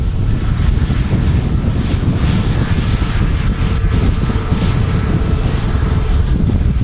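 Airbus A320neo engines roar at Manchester Airport, a loud, steady broadband rumble with wind buffeting the microphone, sustained throughout with no talking.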